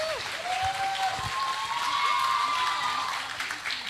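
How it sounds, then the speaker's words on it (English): An audience applauds the winners at a Student of the Year event, a steady broad wash of clapping at moderate loudness lasting throughout, with a faint tonal hum running beneath it and no talking. "We give applause for them."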